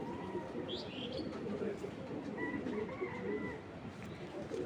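Pigeons coo softly in a loft, their low murmuring steady throughout against a faint, constant background hum.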